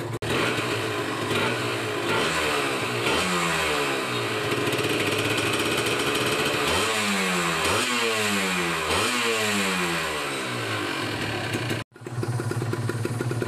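A 2012 Kawasaki Ninja 150 RR two-stroke motorcycle idles with a buzzy rattle, then revs up repeatedly in sharp, rising bursts that fall back to idle, loud and close.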